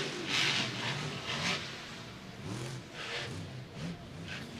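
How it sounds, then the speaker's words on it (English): A monster truck engine at a Monster Jam freestyle event, its throttle rising and falling in repeated revving surges, loud and somewhat distant over a broad arena wash. "you can hear that truck, the throttle rhythm in the air from Camden Murphy"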